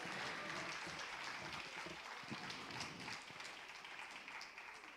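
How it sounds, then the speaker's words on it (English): A crowd of women cheers and applauds at the Womenpreneur Awards 2025 in New Delhi, a dense, steady wash of clapping that stays loud for the whole stretch before easing slightly at the end. "give me a huge, huge cheer and a round of applause for yourselves"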